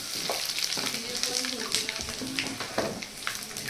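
Mustard seeds and spices sizzling in hot oil in a pan for homemade Khandeshi chivda, with a steady crackling fry, scattered pops and light stirring scrapes, close and continuous.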